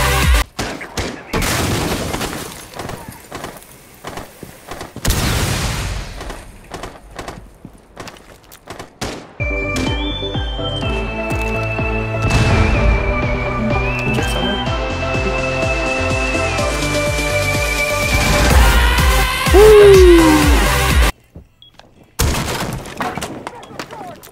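Grenade blast in a shooter video game, with heavy booms and bursts of gunfire early on, followed by a long stretch of loud, dense game noise with sustained tones and a brief drop to near silence near the end.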